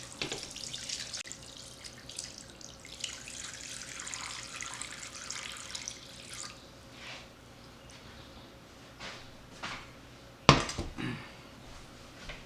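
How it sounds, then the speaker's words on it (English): Brine for a smoked brisket pours steadily over the meat, a continuous wet splashing that fades and then trickles, with a sharp knock near the end. "Now we're going to take this brine and pour it over our brisket."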